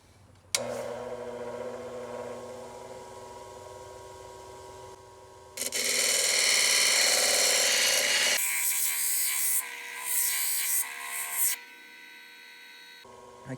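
A polishing machine grinds fire obsidian rock, starting with a mechanical whir and hum, then getting louder with rough, scraping friction. It rises and falls in bursts before settling back to a steady motor drone.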